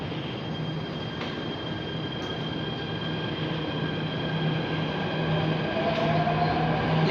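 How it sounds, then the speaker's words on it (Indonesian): An MRT train departs Dukuh Atas station platform 2, bound for Bundaran HI, with a steady mechanical hum and rising electric motor whine building gradually over seven seconds, heard close from the platform without talk. "The train bound for Bundaran HI at platform 2 is departing."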